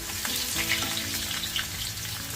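Crushed garlic cloves sizzle in hot oil in a home kitchen pan, a close, steady frying crackle with light spatter that holds evenly throughout.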